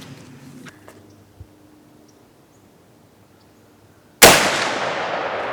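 A Marlin 45-70 lever-action rifle fires a single loud, sharp shot late in the clip, with a long ringing decay trailing off outdoors after a few faint clicks and handling noises.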